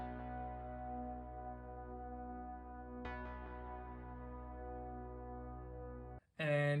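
A sustained chord from the Pigments synth using the Analog Unison preset, played dry with no effects. It holds as one thick, steady tone, is retriggered once midway, then cuts off and is followed by a brief different sound.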